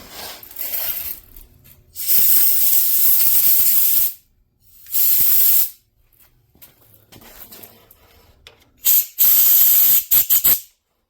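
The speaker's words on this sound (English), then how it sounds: "we'll blow some of the chips out of there" Compressed air blows metal chips out of a freshly tapped hole while replacing the timing gear on a 1987 Chevy S10's Iron Duke engine. Several loud, close hissing blasts of varying length are separated by quiet pauses, ending in short rapid bursts.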